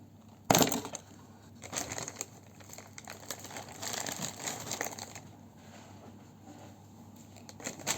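A package is torn open and unpacked, with a sharp rip followed by ongoing crinkling and rustling of plastic wrapping, close and fairly loud, with no talking.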